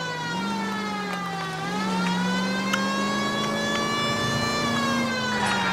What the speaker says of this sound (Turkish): Siren çalıyoruz, geri çek.